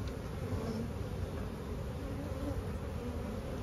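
Honey bees swarm in a dense, continuous buzz around an open hive during a colony split, a close, even drone with no talking over it.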